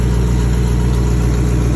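Land Rover Discovery 2 engine idling after a starter replacement, a loud, steady low rumble with an even mechanical hum and no talking.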